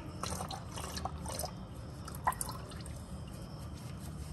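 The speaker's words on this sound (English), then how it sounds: "So this may drip some oil too." Motor oil drips and trickles from a Toyota Venza/RAV4 drain into a pan under the car, faint irregular patters with one sharper drop amid a quiet room, no speech.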